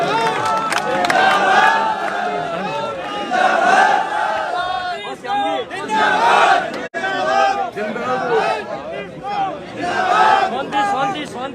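A large gathered crowd of protesters from the Savarna community shouting angrily and continuously, many voices overlapping in loud chants and calls close by, dense and sustained throughout.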